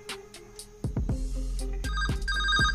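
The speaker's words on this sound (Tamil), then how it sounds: "இப்போ பார்த்தீங்கன்னா இந்த ஃபோனுக்கு வந்து ஒரு கால் வரப்போகுது" An LG G8x smartphone rings with an incoming call, a bright electronic ringtone of repeating tones over a low steady hum, rising as the melody continues.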